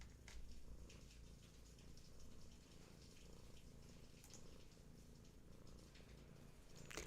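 Close, continuous purring from a cat, a soft rhythmic rumble running throughout with faint background noise and a small knock at the end.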